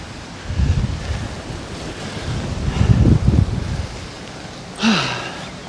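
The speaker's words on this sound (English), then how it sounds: "As you can tell, it's windy." Wind blows across a flooded park in Traralgon, gusting in low rumbling bursts against the microphone, loud and close, with a brief sharper swell near the end.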